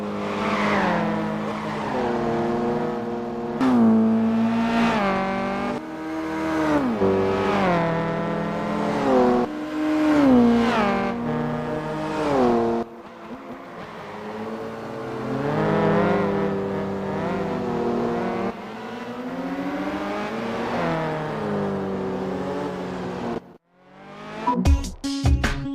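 A Ford GT's engine in the Gran Turismo PSP racing game revs up and down repeatedly through gear changes around Laguna Seca Raceway, with sharp rises and drops and a brief gap near the end.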